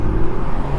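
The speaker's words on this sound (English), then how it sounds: "this is what the car sounds like" A 2013 BMW 135i with the N55 engine, full bolt-ons and an MHD stage 2+ tune, gives a loud, steady low engine drone for a brief moment, with no talking.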